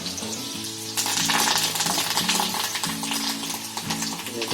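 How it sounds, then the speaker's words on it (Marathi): Cumin and mustard seeds crackling in hot oil with chopped garlic and chili, for a village-style jackfruit dish; loud, close, continuous sizzling with dense popping that swells after the first second and stays busy to the end. "हे जिरं, राई चांगली तडतडली ना, लसूण आणि मिरची टाकलेली आहे कापलेली"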